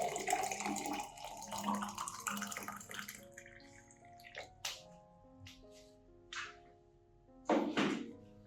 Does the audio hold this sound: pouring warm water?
yes